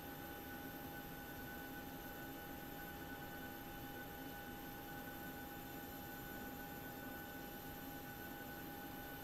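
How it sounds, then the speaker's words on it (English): Steady, faint aircraft engine whine from a flight simulator sound pack, a constant tonal hum over broadband hiss that holds unchanged throughout, alone with no talk. "I really like the engine whine though on this sound pack"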